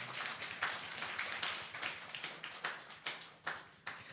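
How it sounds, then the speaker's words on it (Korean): A church congregation claps during a deacon ordination service, steady quick handclaps from many hands, fairly faint and unbroken with no talk over them. "하나님께 영광의 박수를 올리겠습니다"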